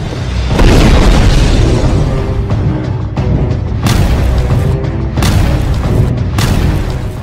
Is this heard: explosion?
yes